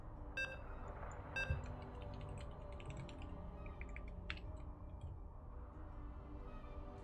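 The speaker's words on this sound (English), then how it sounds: "You can hear the beeps." Two short electronic beeps ring out in a video game lobby after map vetoes during a Christmas Cup semifinal match, followed by soft, steady keyboard typing at low volume.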